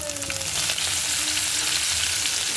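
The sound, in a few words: garlic and cumin frying for cucumber chutney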